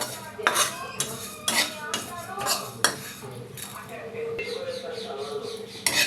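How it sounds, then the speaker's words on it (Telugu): Sesame seeds dry-roasting in a hot pan rattle and crackle as a metal spoon scrapes and clinks against it, with a softer steady sizzle later. "ఈ నువ్వులు కూడా దోరగా వేయించుకుందాం"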